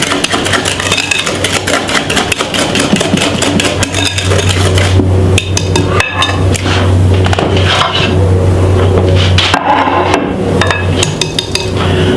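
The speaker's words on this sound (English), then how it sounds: "Give it a lovely whisk." Rum cake batter for a Jamaican Christmas black rum cake being whisked in a bowl, a loud, close, continuous rapid clatter of whisk against the bowl, heard alone.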